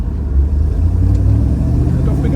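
A 1972 Triumph Stag Mk1 3.0 with manual overdrive pulls away, its engine giving a loud, close, deep rumble that rises steadily as the car moves off.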